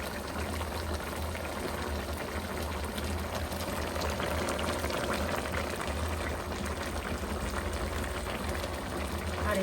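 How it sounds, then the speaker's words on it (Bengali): Bottle gourd simmering in a Rui fish curry, a steady bubbling, hissing boil that holds at an even level throughout with no pauses. "দেখেন কি সুন্দর লাউটা সিদ্ধ হয়ে আসছে।"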